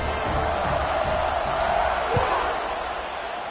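Stadium crowd in a college football video game, NCAA 26, against Toledo, roaring as a steady, dense wash of cheering after a scoring drive, with a brief thump partway through.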